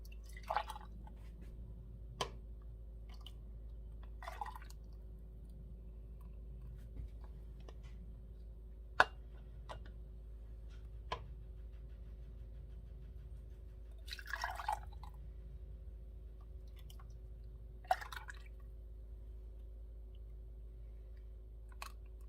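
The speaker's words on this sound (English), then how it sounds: "And now that it is completely melted, I'm going to funnel it into my jars." Melted butter poured through a funnel into canning jars, heard as sparse, faint, isolated drips and small taps spaced several seconds apart over a quiet background.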